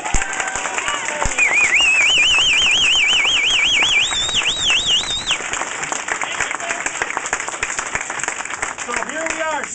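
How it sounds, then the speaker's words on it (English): A crowd at a political campaign rally in Menomonie claps in a round of applause, a dense patter under a whistled or squealing tone and a voice, then fading as speech resumes. "let's give her a round of applause."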